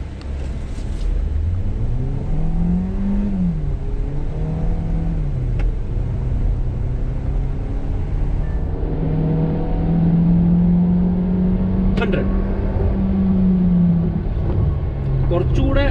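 Kia Carens seven-seater MPV launching hard in sport mode, engine droning loud and close as revs climb and hold, rising in pitch through the run with a few clicks and knocks.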